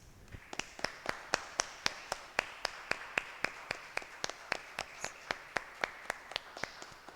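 A church congregation's rhythmic clapping, steady sharp claps at an even beat for several seconds, moderately loud with a soft room background.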